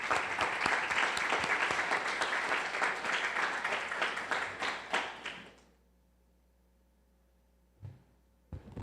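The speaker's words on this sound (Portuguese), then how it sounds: "Aplaudamos-nos nessa noite" A church congregation claps loudly together during a Sunday service. The dense applause thins into a few last scattered claps and stops sharply about midway, leaving near silence broken by a couple of faint knocks.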